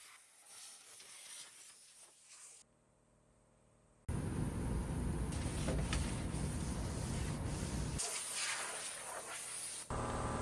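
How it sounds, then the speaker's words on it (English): A spray gun sprays Eastwood epoxy primer in a loud, steady hiss lasting several seconds, broken by a short pause and cutting in and out near the end, onto the bare metal of a Camaro restoration project. "I use my spray gun to lay out some of this Eastwood epoxy"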